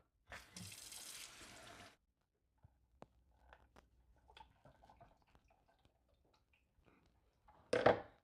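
Water poured into a robot vacuum's water tank: a short splashing pour, then quiet clicks and handling taps, and a second brief burst of pouring near the end.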